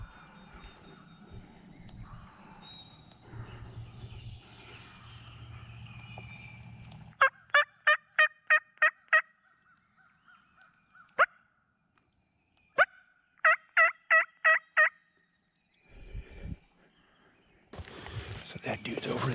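A wild Missouri spring turkey gobbler gobbles repeatedly from across a fence, two rattling bursts and a few single gobbles, loud and crisp against a quiet outdoor background with soft movement noise before and after.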